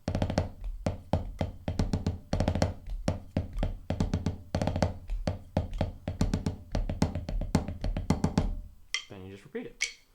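Marching snare drum playing the first pass of the drum solo from the movie Drumline, rapid crisp strokes with accented hits in repeating bars, close and loud, followed by a brief spoken voice at the end.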